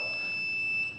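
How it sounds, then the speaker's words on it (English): The electronic speed controller of an Arrows Prodigy 1.4m RTF radio-control plane emits a steady, shrill electronic beep held for about a second, close and fairly loud. "that's the annoying beep that happens every minute."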